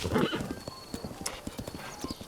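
Horse galloping in Breath of the Wild, a high-stamina mount: rapid, crisp clip-clop hoofbeats in a steady driving rhythm, with a short whinny near the start and no talking.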